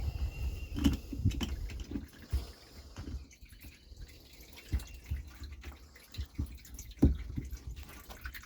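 Water drains out of the hull of a 2013 Sea-Doo GTI personal watercraft raised on its trailer, heard as close, irregular drips and trickling splashes with no voices.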